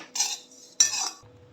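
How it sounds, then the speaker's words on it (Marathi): Dry coconut being roasted in a pan for sesame chutney, with two brief bursts of metal clinking and scraping as a utensil stirs it, close and fairly quiet, followed by a soft low rumble. "अर्धी वाटी सुकं खोबरं घेतले आणि ते मी थोडंसं भाजून घेते आहे."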